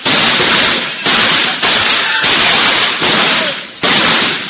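Gunfire sound effect for a 1950s radio drama spy scene: a series of about six loud, sharp shots spaced roughly a second apart, each followed by a short decaying tail.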